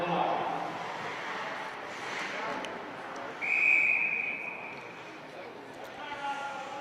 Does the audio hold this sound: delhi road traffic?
no